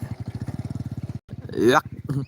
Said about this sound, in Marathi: मोटरसायकल चालल्या ना